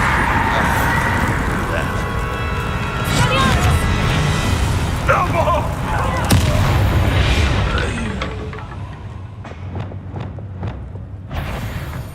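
Game combat in Hogwarts Legacy, where a Bombarda spell sets off a blast amid busy layered sound effects and rumbling, with a sharp boom standing out partway through and voices speaking over the action.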